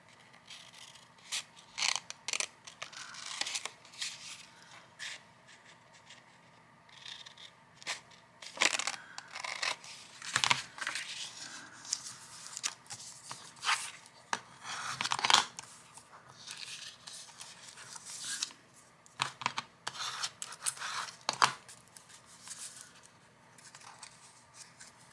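Scissors snip the corners off a piece of cardstock in a quiet crafting setting, producing repeated short, crisp cuts and light paper rustles at an uneven pace, close and fairly faint.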